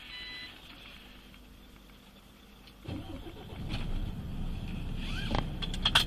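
Truck engine starting in the airport cargo zone in Frankfurt: a quiet cab gives way to a cranking catch and a steady low rumble that builds and settles into a running idle, heard close with no talk.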